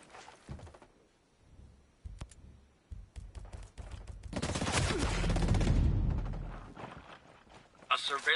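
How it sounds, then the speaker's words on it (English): Hostile gunfire in the tactical shooter Ghost Recon Breakpoint: scattered sharp shots early, then a sustained loud burst of rapid fire and explosion-like roar in the middle, with more shots at the end. "Hostiles are shooting."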